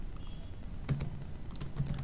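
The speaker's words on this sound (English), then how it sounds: "I'm typing development programs and development programs" Typing on a computer keyboard while entering text into an Excel spreadsheet: a few quick clusters of soft key clicks, close and fairly quiet, with no talking.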